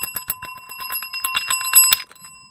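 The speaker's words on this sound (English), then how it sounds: "Hit the bell. Hit the bell." A bright bell is struck rapidly again and again, a quick jangling run of rings with a sustained metallic tone, loud and close, ending abruptly.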